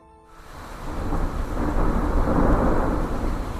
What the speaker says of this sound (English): The heavy rain beat against the window panes